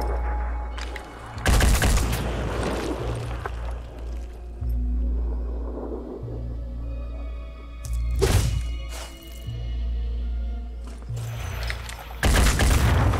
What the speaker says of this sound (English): we blew up our own crate